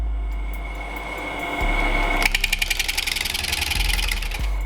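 A wood lathe spins at about 650 RPM while turning an urn, giving a steady motor hum that then adds a rapid, even rhythmic chatter from the turning workpiece, fairly close and with no talking.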